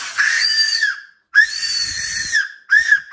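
A small plastic toy whistle, found as a freebie inside a snack packet, blown in three shrill, sustained bursts with short gaps between them, close and loud, with no talking over it.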